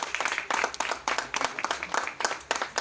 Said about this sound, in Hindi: जोरदार तालियां बजाएं अपने और मेरे खुदा के नाम को जलाल देने के लिए